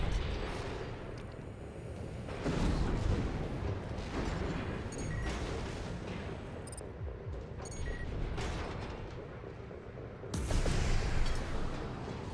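Explosions in the Armored Core VI mech combat game burst as booming, rumbling blasts around the third and eleventh seconds over a continuous clanking mechanical din.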